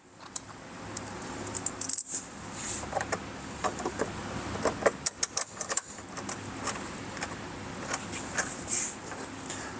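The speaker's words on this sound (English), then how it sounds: "Now we're going to grab our 1-inch countersink screws." 1-inch countersink screws being handled while fitting mud flaps and splash guards on a 2023+ Honda Civic Type R, with scattered close metallic clicks and jingles over a low background rumble.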